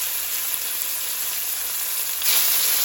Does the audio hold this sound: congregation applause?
no